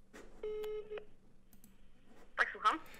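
Telephone dialing beeps as a call is placed during a live Q&A phone-in show, a sustained tone with short clicks, followed by a pair of louder electronic bursts, with a voice faintly underneath.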